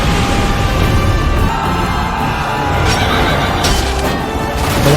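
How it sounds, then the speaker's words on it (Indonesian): Frightened horses neighing and whinnying amid a film battle scene with raging fire, a dense, loud, continuous mix of cries, clatter and crowd-like roar filling the whole stretch. "di saat kobaran api meluap yang membuat kuda-kuda pasukan Yin Shao tremor ketakutan"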